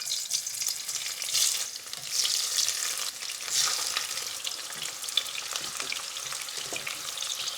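Bitter gourd fries in a pan with a continuous sizzle, a dense crackling hiss that swells and eases, with occasional stirring and no talking.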